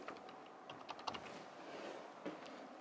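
Light, faint clicks of typing on a computer keyboard, a short run of soft keystrokes over quiet room noise.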